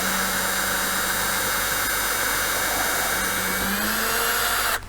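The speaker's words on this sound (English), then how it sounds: "I'm going to drill a small hole" A power drill bores a small hole in a wooden ladder, one steady high whine running loud and close for several seconds before cutting off abruptly.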